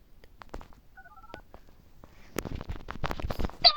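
A telephone is dialed to call firefighters, a short run of clear keypad tones followed by scraping and rustling handling noises that build louder toward the end.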